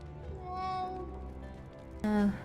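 A cat meows once, short and fairly loud, near the end, over a low steady background hum.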